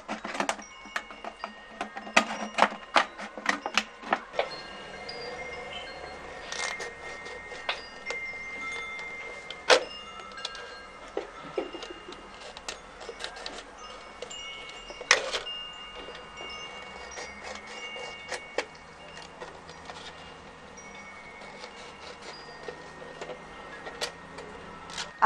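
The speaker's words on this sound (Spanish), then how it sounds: "para introducir la tijera y que sea muy fácil hacer todo el corte de la botella" Scissors cut through a plastic bottle, producing sparse, irregular crisp snips and small plastic crackles close up in a quiet room.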